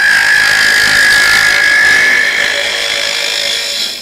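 A 1/2 inch spindle gouge cutting wood on a spinning lathe, turning a wooden cross, gives a steady, loud high-pitched whine with a sustained chattering tone that eases slightly toward the end.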